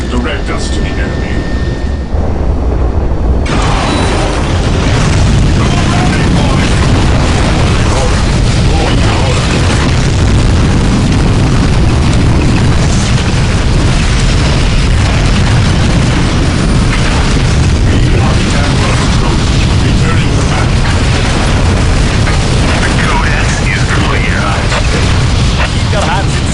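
Explosions and heavy weapons fire rumble continuously in the Warhammer 40K game Dawn of War Soulstorm, a loud, dense roar of booms and mechanical battle noise with voices speaking over it.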